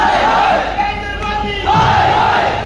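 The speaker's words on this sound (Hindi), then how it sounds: "वहाँ पे नारेबाजी भी हो रही है" Large protest crowd near a closed metro station, many voices shouting slogans together in a loud, dense roar with rising and falling chanted phrases.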